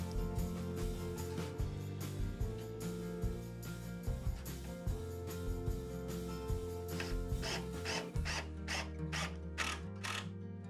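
Power driver sinking self-tapping panhead screws into a wooden cabinet, giving steady mechanical ratcheting and clicking throughout, with a dense run of clicks near the end and no talking.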